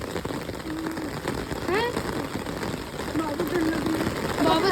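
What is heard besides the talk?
heavy rain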